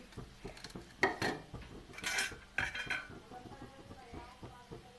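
Khichdi being served onto plates in a home kitchen: metal utensils clink and scrape against dishes in a few quick bursts, close and fairly quiet, with faint voices in between.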